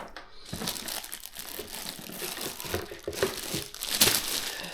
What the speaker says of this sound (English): And it just has regular plastic wrap.